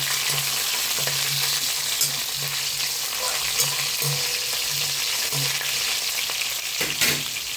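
Garlic, dried red chillies and green chillies frying in a pan, with a continuous close crackling sizzle and intermittent spoon stirs scraping the metal, no talking.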